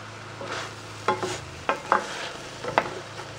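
A pan is deglazed for spaghetti sauce as a spatula scrapes the browned bits off its sides, several close, sharp scrapes over a quiet sizzle, with no talking.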